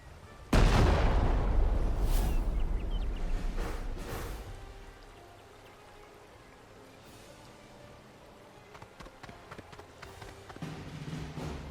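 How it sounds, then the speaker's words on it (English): A grenade explodes with a sudden loud boom in the WWII tactical strategy game Classified: France '44, then a long rumbling decay and a few smaller thuds and crackles afterward. "So we're going to be throwing a grenade over here."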